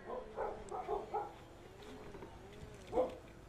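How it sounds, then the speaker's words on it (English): Dogs barking and yipping in the distance, several short barks in a cluster followed by a single louder yelp, faint and without talk. "I'm just gonna go yell at a couple dogs to shut up"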